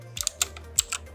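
Clicky keystrokes on a computer keyboard while typing a command in Kali Linux, a handful of separate key presses in an uneven rhythm, close and fairly quiet, with no voice over them.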